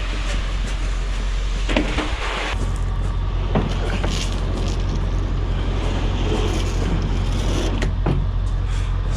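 A truck on a ranch with its engine running: a constant low rumble throughout, broken by a few sharp clicks and knocks early on, with faint voices in the background.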